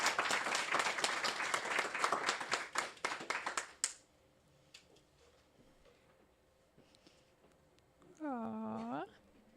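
Clapping from a small audience at a magazine release event, loud and fast for about four seconds, then cutting off into quiet room sound, followed by a short wavering tonal call near the end.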